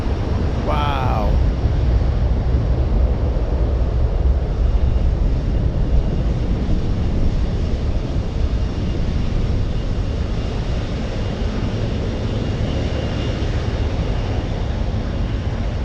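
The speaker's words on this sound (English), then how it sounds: "Look at that beautiful takeoff." An airliner takes off at Anchorage airport in gusty winds, its engines producing a loud, steady roar that fills the scene. A voice briefly speaks near the start.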